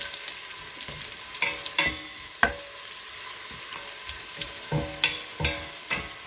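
Onions fry in oil in a pan, with a steady close sizzle broken by irregular sharp clinks and scrapes as they are stirred.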